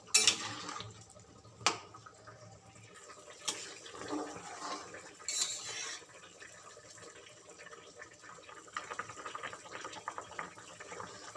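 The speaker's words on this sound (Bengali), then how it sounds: "মিশিয়ে আমি আমগুলোকে এইভাবে সেদ্ধ করে নেব।" Pot of mangoes boiling in salted turmeric water, a steady soft bubbling and simmering with occasional clinks and sharp knocks of utensils, close by, with no voices.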